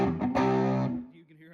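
An electric guitar fuzzing up through a 1963 Ampeg R-12R Reverb Rocket amp on the middle pickup position, a single strummed chord ringing with gritty distortion, then decaying quickly.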